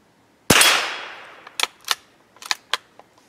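A rifle shot at an AR500 steel plate target outdoors: one loud, sharp crack with a long fading tail, followed by several brief, sharp impact clicks spread over the next two seconds.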